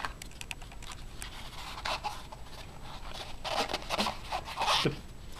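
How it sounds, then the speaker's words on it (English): Soft foam is cut and stuffed into a plastic bullet box for reloaded cartridges, giving a series of soft, close rustling and scraping bursts with small clicks, growing busier toward the end, with no talking. "So I've got a piece of foam. I'm gonna cut it. And I'm gonna stuff it in here."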